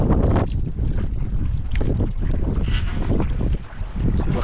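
Strong wind roars steadily over a fishing boat at sea off the Philippines, loud and continuous with heavy microphone buffeting and water rumble throughout, briefly dipping near the end.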